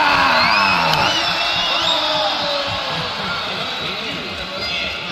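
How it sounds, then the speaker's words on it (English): An arena crowd cheers at the Dota 2 Lima Major playoffs. It is a loud, steady roar of whoops and yells that fills the whole clip, with no clear speech on top. "let's just go ahead and enjoy the crowd"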